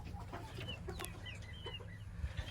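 An Aseel rooster clucking in short, soft calls with a few higher squawk-like notes over a low rumbling background, fairly faint and with no speech.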